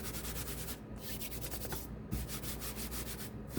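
Hands brushing excess flour off a work surface while shaping sourdough, a steady close rubbing and sweeping texture with a few brief pauses and a soft bump, no talking.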